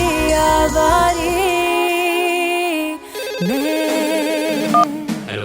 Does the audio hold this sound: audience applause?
no